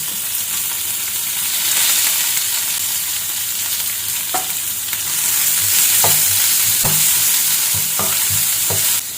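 Onion, mustard seeds, fennel and curry leaves fry in a hot kadai with a loud, steady, hissing sizzle, and a spatula scrapes and knocks repeatedly through the second half.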